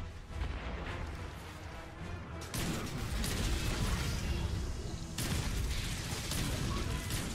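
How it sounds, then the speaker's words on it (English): An anti-barrier weapon being reloaded in Destiny 2: heavy mechanical clunks and shifts, with two abrupt loud jolts, over a dense, rumbling wash of gunfire and combat. "I have to go behind something and load my anti-barrier weapon up"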